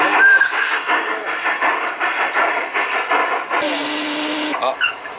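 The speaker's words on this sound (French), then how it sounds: "elle lève la soupape" A live-steam miniature American-style 140 locomotive on a model railway lifts its safety valve, with a loud, steady rush of hissing steam over a second or so, amid puffs, chuffs and faint mechanical clatter.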